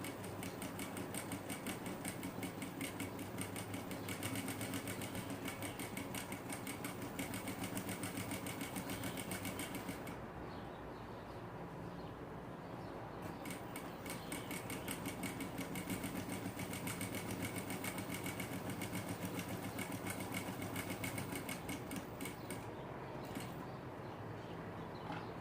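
A sewing machine stitches along the edge of its presser foot in fast, even runs, pausing briefly twice before starting again. The hum and rapid needle ticking are close and moderately quiet, with no talk.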